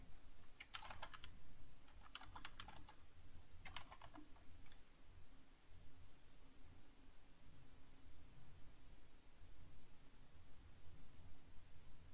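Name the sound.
typing a Nikto scan command on a computer keyboard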